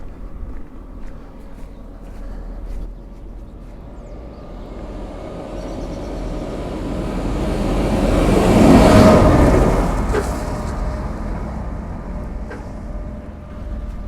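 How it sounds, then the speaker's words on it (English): A tractor drives past on a country road outdoors, its engine rumble swelling steadily to a loud peak close by, then fading as it moves away. "It's a tractor."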